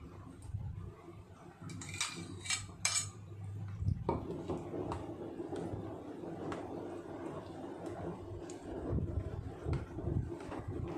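A utensil stirs an avocado ice cream mixture in a box container, with a few sharp clinks at first and then a steady scraping rustle over a constant low hum.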